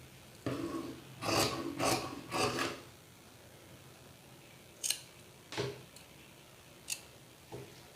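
Scissors snip through blouse fabric along a marked cutting line: a few quick close cuts in a row, then a pause and several sharper, isolated snips, loud against a quiet room.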